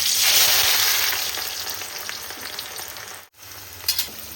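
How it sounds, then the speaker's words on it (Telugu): Smashed onions fry in hot oil with a loud, close sizzle that starts strong and gradually settles, a short break and a couple of stirring scrapes near the end, no talking. "తొందరగా ఆనియన్స్ అనేది ఫ్రై అయిపోతుంది."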